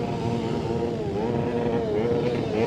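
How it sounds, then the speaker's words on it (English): A motorcycle engine drones steadily and loud at a crowded bike night at Donington, its pitch wavering slightly as the throttle is worked, with no clear voices over it. "Somebody's found his throttle."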